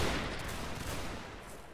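A dense volley of video-game musket fire rolls out as a continuous crackling fusillade, fairly distant and fading slightly toward the end.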